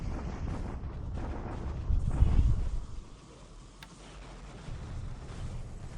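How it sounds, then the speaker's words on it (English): Artillery fire from a WWII strategy video game at Hong Kong, heard as a low rumbling boom swelling midway and fading into a dull background murmur, with faint ticking. "artillery at Hong Kong"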